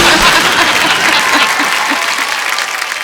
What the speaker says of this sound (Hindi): जोरदार से ताली से आप उनका स्वागत करेंगे